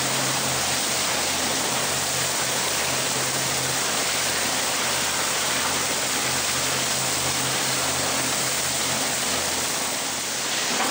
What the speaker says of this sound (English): he's using the water right now to rinse the coffee and to push it through the trap door